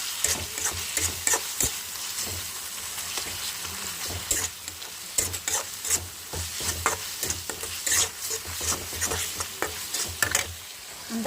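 A spoon stirs chili powder and salt into a simmering fish curry gravy in a pan, repeated scraping strokes over a continuous bubbling sizzle, close and fairly loud.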